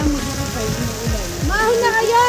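Rain falls steadily on surfaces in General Nakar, Quezon, a constant close patter and wash, with people talking over it.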